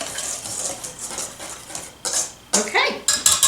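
A utensil stirs dry ingredients into a creamed Cracker Jack cookie mixture in a bowl, with repeated close scraping and clinking strokes that grow louder toward the end.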